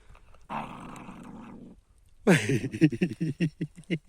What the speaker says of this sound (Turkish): Hırla kızım hırla ona hırla